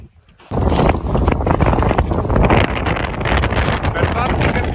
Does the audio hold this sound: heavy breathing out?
no